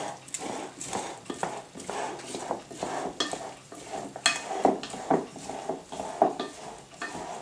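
Tropical chicken salad ingredients stirred and tossed in a bowl, giving repeated close scraping and clinking strokes in an irregular rhythm.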